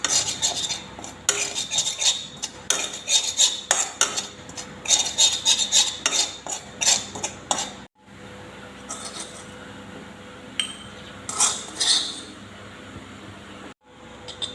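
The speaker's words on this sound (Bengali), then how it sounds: "এখানে আমি শুকনো কড়াইতে ধনিয়া গুঁড়ো প্রথমে ভেজে নিচ্ছি।" Coriander powder is dry-roasted in an oiless wok, stirred with a metal spatula that scrapes and clinks repeatedly against the pan in quick close bursts, with two brief pauses.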